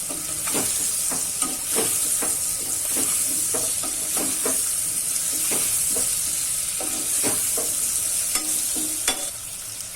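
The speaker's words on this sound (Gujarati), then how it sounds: "હવે આપણે તુરિયું ઉમેરી દેશું. આ રીતના બધું મિક્સ કરી દેશું." Ridge gourd and potato curry cooking in a pan, sizzling loudly and continuously while a spoon stirs it in repeated scraping strokes, close up with no talk.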